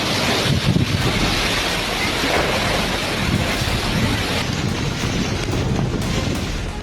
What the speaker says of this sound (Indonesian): Oh, Beliung, angin puting beliung